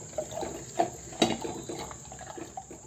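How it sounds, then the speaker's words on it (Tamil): Water pours and splashes into a cooking pot for thuthuvalai rasam with soft gurgles and one louder slosh midway, fairly close and without voices. "சாறு கழுவுன தண்ணி ஊற்றிக்கலாம்."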